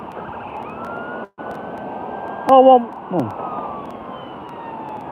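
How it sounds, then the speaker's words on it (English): A fire engine and an ambulance pass on a street, their sirens wailing steadily in the distance under a continuous background drone, with a brief interruption, a sharp burst of sound and a man's short exclamation. "Fire engine went one way, and then the ambulance went the other way."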